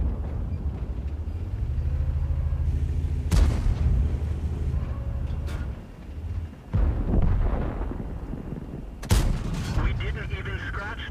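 A tank gun firing shells in World of Tanks, with two or three heavy booms standing out over a steady engine rumble. Someone talks across part of it.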